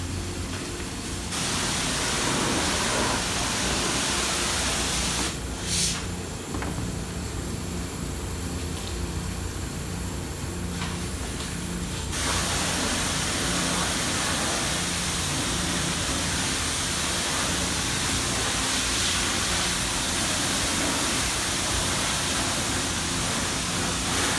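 A water rinse sprays soot off a fire-damaged truck, a loud, steady rushing hiss like heavy rain that runs throughout, briefly shifting in tone as the spray moves, with no voices.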